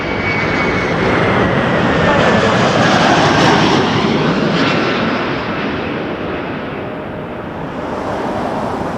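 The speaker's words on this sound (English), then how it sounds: "Emirates is beginning its taxi." An Emirates jet taxiing at Toronto Pearson Airport, its engines a loud, steady roar with a whine sliding across it that eases slightly toward the end.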